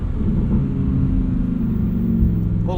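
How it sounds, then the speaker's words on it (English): A Lamborghini Huracan engine burbles at low revs, a deep, loud and steady rumble heard close up with no talk over it. "That burble at low revs"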